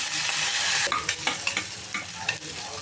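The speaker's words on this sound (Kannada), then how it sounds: "ಈರುಳ್ಳಿ ಚೆಂದ ಫ್ರೈ ಆಗಬೇಕು" Onion with mustard seeds and curry leaves frying in oil in a cooker for a bottle gourd gojju: a dense hiss gives way to repeated spoon-stirring scrapes over a continuing sizzle, close and clear, no talking.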